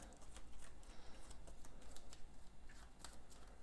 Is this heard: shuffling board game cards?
yes